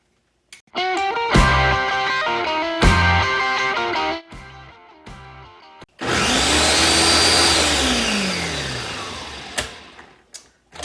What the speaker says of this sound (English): close your blender lid, stick it on there